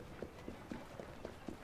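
Horse hooves clip-clop in Assassin's Creed Syndicate, about six evenly spaced, faint hoofbeats in a quick trotting rhythm over a low background.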